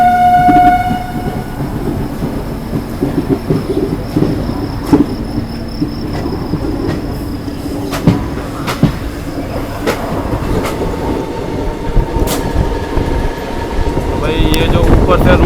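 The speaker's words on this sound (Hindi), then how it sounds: "ये ICF का ट्रैक साउंड बहुत लोगों को पसंद है भाई" ICF train coaches of the Prayagraj Dadri summer special run along the track, giving a loud, steady rumble with rhythmic clickety-clack and a brief horn at the start; a voice is faintly present.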